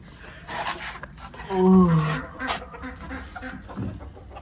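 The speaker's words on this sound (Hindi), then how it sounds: "ये वाला जो देसी मुर्गा है ये इसे नहीं मारता" Desi rooster and hens in a coop, giving a short loud clucking call near the middle amid softer fowl noises and faint background sounds.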